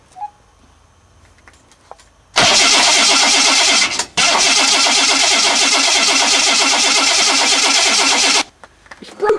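A supercharged V6 engine starts up after a quiet pause, bursting into a loud, steady, raspy idle that cuts briefly near four seconds, then runs for about six seconds before stopping abruptly.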